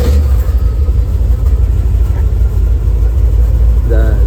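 A 1977 Chevrolet K10 pickup with a 454 engine cranks and settles into a loud, deep, rumbling idle, heard close and steady the whole time.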